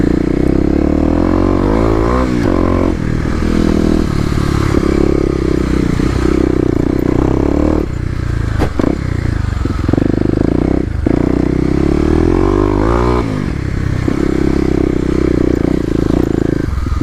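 A Stage 1 Kawasaki KLX250 dirt bike engine runs steadily and loudly up close while riding off-road OHV trails, with rising revs, throttle changes and rattling clatter from the rough ground throughout.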